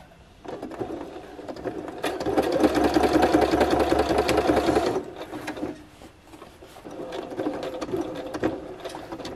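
A sewing machine stitches jacket fabric, running in fast, continuous mechanical bursts that start, pause and resume, loud and close, with small clicks between runs and no talking.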